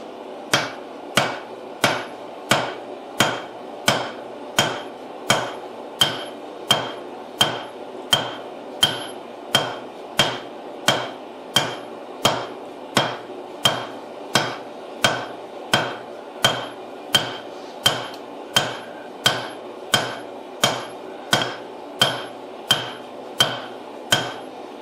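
Hammer blows forge-weld a Damascus steel billet, landing in a steady, even rhythm of roughly one strike per second, each a sharp ringing metallic impact, close and loud, continuing for the whole stretch with no voices.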